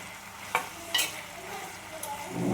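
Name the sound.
vegetables sautéing in oil in a pan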